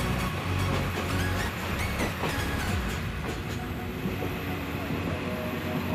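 The Parabat Express of Bangladesh Railway runs with a loud, continuous rumble and rhythmic wheel clatter that later settles into a steadier roar.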